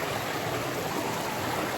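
A stony river rushes over rocks in Jamaica, a steady broadband wash of flowing water, close and even throughout, with no voices.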